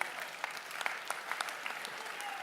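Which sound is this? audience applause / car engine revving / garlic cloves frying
audience applause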